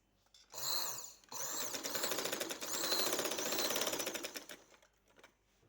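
A sewing machine stitches a fitting seam with a fast, close, rattling run of needle strokes, stopping briefly and then resuming for a longer steady burst.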